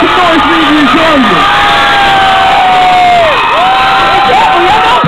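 A large concert crowd at a live hip-hop show in a Dublin venue cheers, whoops and shouts loudly and continuously, with shrill voices rising above the roar.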